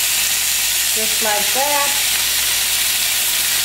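Steak sizzling loudly in a hot pan after being flipped, a steady broadband hiss throughout, with someone speaking briefly over it.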